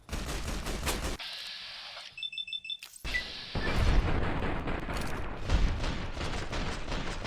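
Bursts of heavy automatic gunfire from Fallout: New Vegas, with a brief quiet gap before sustained loud shooting resumes, rattling densely and alone without talk.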